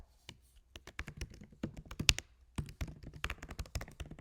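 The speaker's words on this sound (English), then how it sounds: "I'm going to type in my email" Typing an email address on a computer keyboard, a quick irregular run of close, crisp key clicks with brief pauses.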